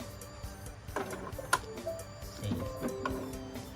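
An Epson L3110 inkjet printer starting up after power-on, giving off a series of mechanical whirs, clicks and short motor runs at close range, with a sharper click partway through and some background voice.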